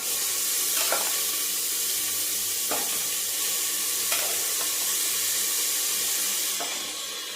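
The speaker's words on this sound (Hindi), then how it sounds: "मैं चावल छोंकने लगी हूँ। जीरा राइस बना रही हूँ।" Rice sizzles loudly in hot ghee as it is tempered for jeera rice, a dense, continuous frying hiss close up, broken by a few soft scrapes as it is stirred.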